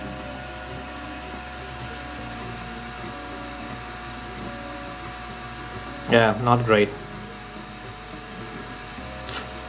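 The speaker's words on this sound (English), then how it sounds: "noise is the issue here" A Cetus 3D MK2 Extended 3D printer hums and whirs steadily throughout at its fastest print speed, with a brief spoken remark partway through.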